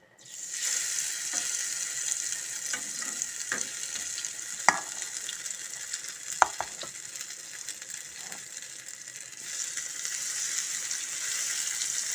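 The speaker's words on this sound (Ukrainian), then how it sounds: "Зараз будемо жарити наші деруни." Beetroot and potato pancakes fry in a pan with a steady, close hiss of sizzling oil, broken by a few sharp pops and clicks throughout.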